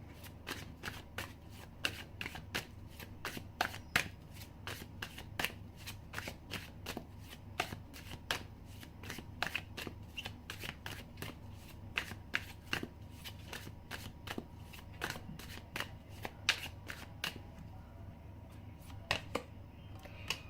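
Tarot cards are shuffled over and over, a close, crisp series of rapid riffling slaps repeating at a steady pace, heard alone.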